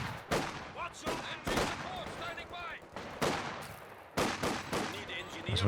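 Gunfire in the strategy video game Company of Heroes 2, with repeated loud bursts of rifle and machine-gun fire, sharp cracks every second or so, and a game voice cutting in between volleys.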